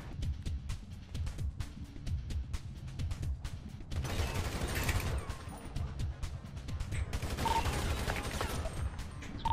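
Bursts of rapid game gunfire crackle and pop over a low rumbling background, with louder volleys in the second half.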